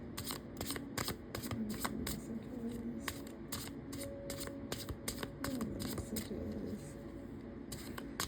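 Flame Oracle cards shuffled over and over in a steady, close, papery flutter, with repeated crisp riffling bursts and slaps continuing for several seconds without talk.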